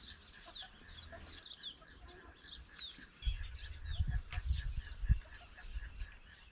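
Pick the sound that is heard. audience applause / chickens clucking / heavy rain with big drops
chickens clucking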